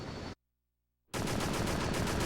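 Rapid automatic gunfire in the PS2 game Extermination, a loud dense burst that cuts out into silence and then resumes as steady repeated shots.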